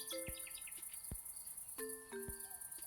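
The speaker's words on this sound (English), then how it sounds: "Get the bird, get that cicada. Listen to this cicada." A cicada drones outdoors in a thin, continuous high buzz, faint and distant, while birds chirp briefly and a few soft knocks sound in between.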